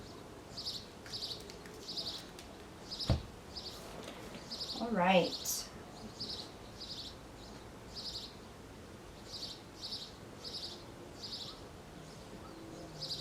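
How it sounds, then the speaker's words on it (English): A bird outside an open window repeats the same high chirp in a steady, rapid series at moderate distance, going on and on under a person speaking indoors, with a brief rising whoop-like sound midway. "there's a bird going kind of crazy out there"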